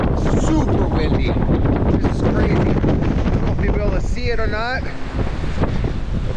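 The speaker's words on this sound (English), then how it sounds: "So it is windy, as you can tell." Strong wind on the Alaska coast buffets the microphone in a constant roaring rush, with a person talking over it.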